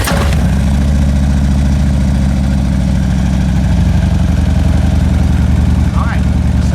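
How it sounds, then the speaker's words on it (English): Harley-Davidson Road Glide idling through a CT muffler exhaust, a steady close low-pitched rumbling throb that holds evenly throughout with a faint brief sound near the end. "I know we always get yelled at if I don't let people hear exhaust when I talk about them"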